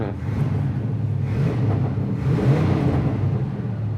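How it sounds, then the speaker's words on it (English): A 1979 Chevy Camaro Z28 exhaust burbles with a low, steady rumble and faint crackling muffler pops, close and continuous. "It's got a little cackle to the mufflers."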